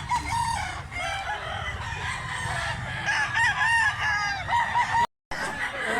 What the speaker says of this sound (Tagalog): Malaking manok guys, malaki.